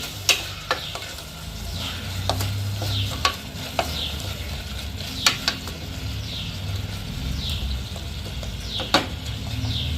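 Pumpkin curry being stirred in a frying pan, with a steady sizzle throughout and a series of sharp scraping clicks from the spoon against the pan at irregular intervals, close and clear, with no talk.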